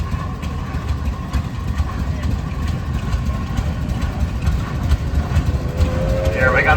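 A 1914 Rumely Oil Pull tractor, number 1428, runs in a steam and gas engine parade, its low engine chugging in a steady rhythm while an announcer talks over it and crowd noise surrounds.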